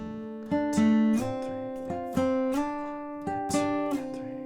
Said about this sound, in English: So the riff with the capo involved will sound like this.